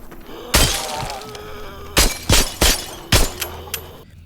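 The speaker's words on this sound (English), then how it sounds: "if you shoot through glass, the bullet will go through, but you only get a glass shattering sound" Glass shatters under gunfire in a VR zombie shooter game, with a sharp crash at the start and then a quick run of three or four loud breaking bursts, close and clear.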